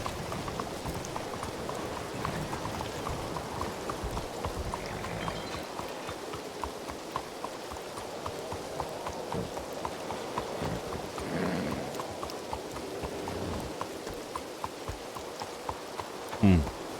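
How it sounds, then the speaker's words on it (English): Steady rain hisses through a stormy scene in Red Dead RP, a continuous broadband wash of downpour with scattered patters and faint clopping hooves, and a sharp crack near the end. "Holy shit, the storm."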